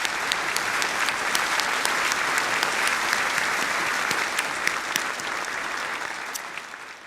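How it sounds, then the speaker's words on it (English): Sustained audience applause at an awards ceremony, dense overlapping claps from a large crowd, steady and loud throughout, tapering slightly at the end. "So let's give an applause for that."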